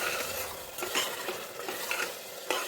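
Mutton mince is stirred and fried in a pan, a faint continuous sizzle broken by several scraping strokes of a spatula against the metal, close and without talk.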